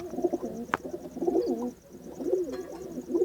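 Pigeons coo close by in a steady, overlapping run of low, throaty rolling calls, with one sharp click partway through and no talking.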